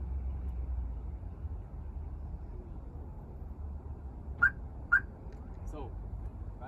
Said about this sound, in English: The tool will unlock the car.